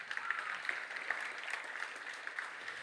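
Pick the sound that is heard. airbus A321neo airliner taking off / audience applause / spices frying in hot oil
audience applause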